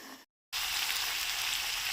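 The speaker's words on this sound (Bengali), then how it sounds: "এবার আমি চিকেনগুলো দিয়ে দেব। চিকেনটা দিয়ে ভালো করে কষিয়ে নেব।" Chicken pieces frying in spiced oil, a dense continuous sizzle that holds steady and close after a brief cut to silence, with no talk.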